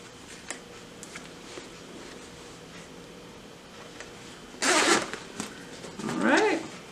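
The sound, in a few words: zipping up a zipper on a tote bag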